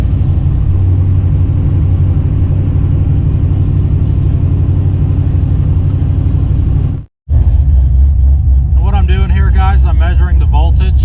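A Fox-body Ford Mustang engine running at a steady high idle, a loud continuous close rumble that drops out for an instant and then resumes, with a voice talking over it near the end.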